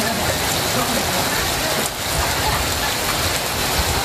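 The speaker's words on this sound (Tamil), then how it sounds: "பிற்பகலில் கனமழை பெய்தது." Heavy afternoon rain pours steadily in Tamil Nadu, a dense, continuous hiss of drops striking surfaces, loud and close, with a brief dip near the middle and no voices.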